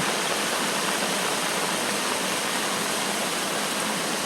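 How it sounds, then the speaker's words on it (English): Rainwater from a heavy downpour pours steadily into a drain at a library site, making a dense, close, unbroken rushing hiss with no pauses. "So it looks like all the water is making it into this drain right here"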